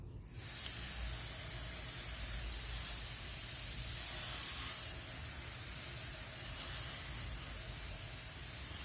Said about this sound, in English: My pressure is so high, and I have it on mist.